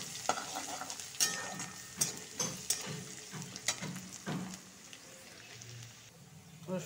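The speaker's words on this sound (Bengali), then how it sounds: "রসুনের কুচিটা ভালো করে লাল করে দিয়ে ভাজবো।" Chopped garlic frying in oil for a rajma dish, a soft sizzle broken by repeated scraping stirs of a spoon against the pan, fairly quiet and close.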